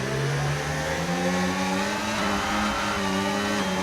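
A racing car in a video game round in China spins its wheels accelerating out of a tight hairpin, with a steady, loud engine whine rising slowly in pitch over the full stretch.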